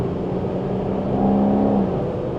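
A V12-powered car cruising along, a smooth steady engine hum from inside the cabin with a gentle swell as it pulls, no talking over it.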